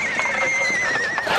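A horse lets out a single drawn-out neigh, loud and close, with a wavering whinny that carries on for over a second.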